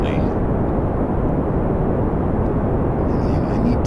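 A steady, loud rocket engine roars through a straight-up burn below full throttle in Kerbal Space Program, a continuous broadband rumble holding even for the whole stretch with no letup.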